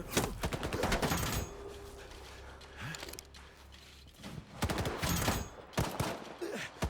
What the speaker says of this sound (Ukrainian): Чому по нас стріляють? З якого хріна ви стріляєте?